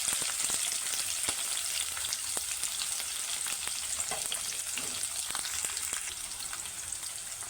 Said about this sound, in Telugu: ఉల్లిపాయ ముక్కలు బ్రౌన్ కలర్ వచ్చే వరకు వేయించుకోవాలి.